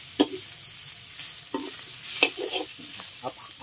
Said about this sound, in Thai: เอาน้ำมันในตัวของเนื้อนี่แหละครับมาผัดเครื่องนะครับ